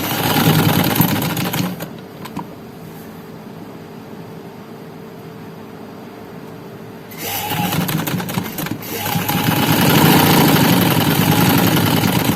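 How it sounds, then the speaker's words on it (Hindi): A sewing machine stitches a strip onto a neckline in bursts, buzzing loudly at the start, falling quiet for several seconds, then running again steadily to the end. "चलें अब मैं पूरी सिलाई लगा के दिखाती हूँ"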